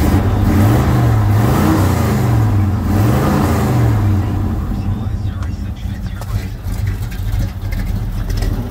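A restored 1972 Chevrolet K10 Custom Deluxe 4x4 pickup idling cold at about 750-800 RPM, a loud steady low rumble with a wavering engine note early on that settles into an even drone.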